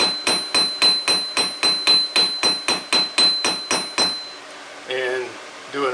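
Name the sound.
hammer forging a taper in hot metal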